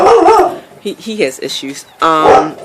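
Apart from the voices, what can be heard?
dog barking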